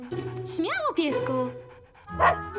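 A cartoon dog gives a short bark and whimpering yelps, then pants in a brief breathy burst near the end. Tonal music plays underneath and a speaking voice briefly joins.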